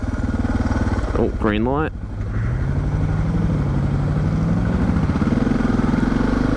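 A Suzuki DR650 dual-sport motorcycle ridden through traffic, its single-cylinder engine thumping steadily close up with a rising pitch as it pulls away, while the rider speaks briefly over it.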